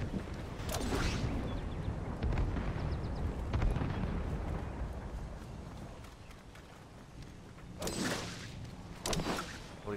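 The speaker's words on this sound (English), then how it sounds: "Throw some grenade." Grenade blast in the video game Fortnite, a loud burst around the middle followed by rumbling debris, with another sharp burst near the end amid game ambience.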